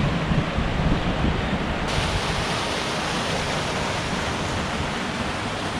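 Steady rushing roar of a waterfall in Inverness, Scotland, heard up close as continuous broadband white water with a brief shift in tone partway through, and no talking over it.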